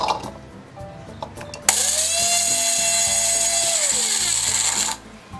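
A kitchen grinder whirs loudly as onions are ground into a paste, a steady high motor whine starting abruptly, holding for about three seconds, then cutting off, with faint clatter before and after.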